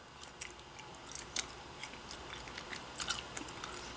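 Close, wet chewing of a sticky, chewy lemony chocolate treat from Serbia and Croatia, with soft smacking clicks repeating irregularly through a quiet background.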